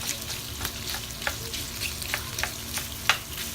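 Shrimp sizzle and crackle in a hot pot, a steady broadband fry with scattered sharp pops and light stirring clicks throughout, no voices.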